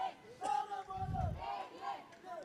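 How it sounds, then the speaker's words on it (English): Cricket crowd at Sheetal Ground during a Radiant United versus Western Warriors night match, roaring and cheering after a six, a dense swell of screaming voices rising and falling over a couple of seconds. "The crowd still seems to go haywire."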